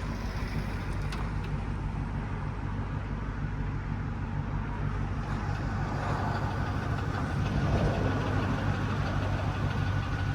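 A 1999 Chevy G3500 Express cargo van idles steadily close by, a low continuous engine drone with a faint rattle that is hard to pick out.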